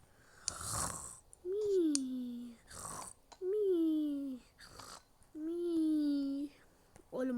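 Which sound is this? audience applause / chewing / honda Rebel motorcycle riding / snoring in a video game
snoring in a video game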